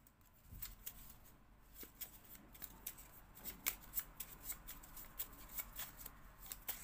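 Tarot cards are shuffled quietly up close, a soft, steady run of riffling flicks and taps repeating rhythmically for several seconds.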